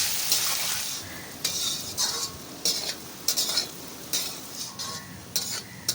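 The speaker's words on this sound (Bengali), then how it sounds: "এবার সব কিছুকে ভালো করে একটু নেড়ে নেবো যাতে এর ফ্লেভারটা চলে আসে" Whole cumin and other whole spices with chopped onion sizzle in hot oil for a chicken curry, a steady frying hiss broken by repeated scraping strokes of a spoon stirring the pan, close and alone.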